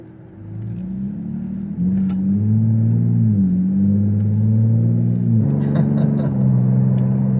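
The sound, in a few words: pickup truck exhaust while driving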